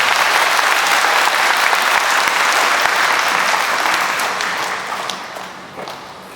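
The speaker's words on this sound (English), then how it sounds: "Let's give them a round of applause and your full attention." Applause from the audience at a school Veterans Day program, dense clapping from a large crowd that holds strong and then gradually thins and fades toward the end.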